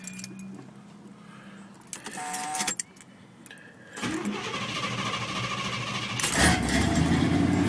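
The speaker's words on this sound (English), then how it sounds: "First try, the car has crunk up." Keys jingle briefly, then a Cadillac engine cranks and catches on the first try, settling into a loud, steady high idle close by.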